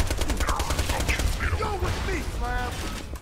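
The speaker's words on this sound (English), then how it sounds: "That's you shooting at me." Rapid weapon fire in the co-op shooter Borderlands 2, a dense continuous rattle of shots mixed with game effects, fairly loud and steady throughout.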